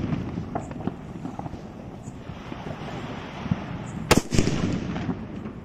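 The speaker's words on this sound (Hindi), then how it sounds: "सुतली बम को जला के देखते हैं कैसा चलता है" A sutli bomb firecracker goes off outdoors during cracker testing: a steady wind-blown, crackling hiss from the lit fuse, then a sharp, loud explosive bang near the end followed by a short scattered crackle, with no talk.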